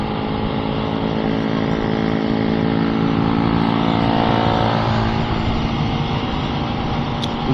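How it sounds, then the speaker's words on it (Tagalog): A BMW motorcycle on an open road, its steady engine drone loud and continuous throughout as it runs alongside or passes, with no talking. "Motor to, ganda nito,"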